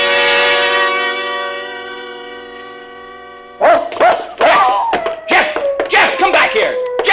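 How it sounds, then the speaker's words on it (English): A long, fading bell-like chime opens a 1949 radio drama scene, then a dog barks and yips loudly and close by in a rapid, uneven series of sharp barks. "Jeff, you fool dog, come back here!"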